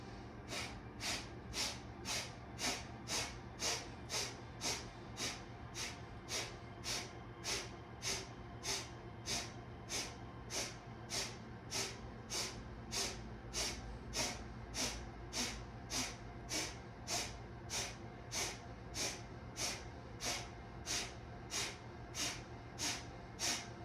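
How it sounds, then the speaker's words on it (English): Breath of fire in kundalini yoga, forceful nasal exhales repeated in a fast, very even rhythm of roughly one and a half per second for the whole stretch, close and steady over a low hum. "I'm going to invite you to begin breath of fire."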